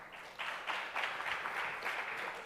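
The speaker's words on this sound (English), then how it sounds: "Please help me by giving a round of applause to our panel." Brief applause from a forum audience for a proptech panel, a burst of clapping that starts after a short quiet moment and holds at moderate level for a couple of seconds.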